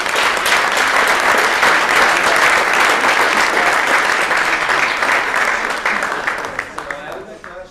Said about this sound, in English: I would like to request another round of applause for both of you.